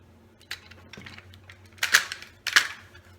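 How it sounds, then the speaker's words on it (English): A Tacamo pump paintball marker's magwell sliding forward into place, heard as a few sharp close plastic-and-metal clicks and clacks spread over a few seconds in a quiet room. "Now all we have to do is just slide in a mag well, slide forward."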